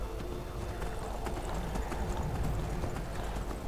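Horse hooves clip-clopping at a steady gait while riding in Skyrim, brisk rhythmic thuds close by over a constant low rumble of ambience, with no talk.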